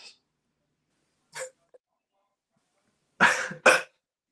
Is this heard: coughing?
yes